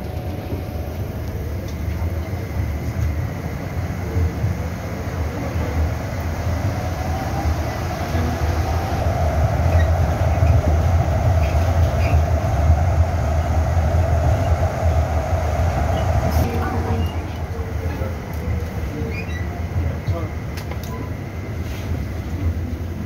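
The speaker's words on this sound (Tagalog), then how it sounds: "So dito tayo sa train sa airport." An airport people-mover train at Hong Kong International Airport rumbles steadily throughout, with a low hum and a sustained whine that rises mid-ride and then drops away near the end.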